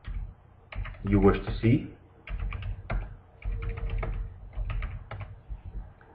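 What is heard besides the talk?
typing stock symbols on a computer keyboard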